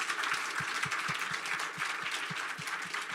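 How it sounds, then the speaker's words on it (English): An audience at a United Nations General Assembly food event applauds the panelists, producing a brisk wash of clapping with a rhythmic, close thump running under it. "Give them another round of applause, please."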